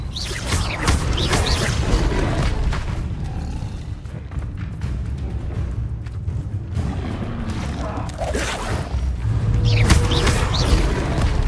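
The Confringo fire spell blasts repeatedly in Hogwarts Legacy: loud, roaring bursts and booms layered over a dense game soundscape, with a heavy surge near the start and another toward the end.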